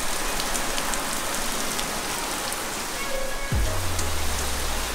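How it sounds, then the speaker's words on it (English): Heavy rain pours in Puerto Rico, a dense steady hiss of drops on surfaces close by, with a brief low rumble near the end. "you can tell it's raining like a mug"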